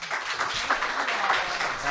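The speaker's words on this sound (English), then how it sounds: "please give a big round of applause" An audience applauds panel speakers at an academic talk on the Black intellectual tradition, a brief, even wash of clapping that fills the room at constant loudness.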